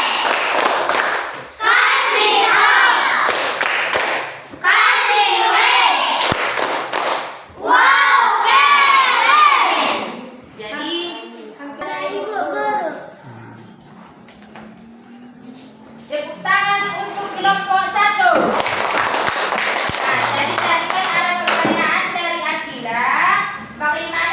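A classroom of children performs a rhythmic "tepuk wow" clap chant, bursts of loud unison shouting and clapping alternating with short pauses, then a longer sustained stretch of excited voices and claps.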